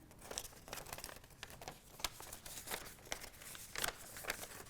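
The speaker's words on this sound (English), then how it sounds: "you're going to fold your pages into one another" Paper pages being folded into a small zine make soft, close crinkles and crisp creasing swishes in an uneven rhythm, quiet and without talk.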